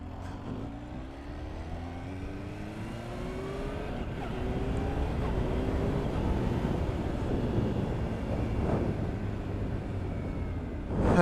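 A 200-horsepower Kawasaki H2 SX SE motorcycle pulling away under light throttle, with a steady, rising engine drone and wind rush that builds slightly and holds close and continuous.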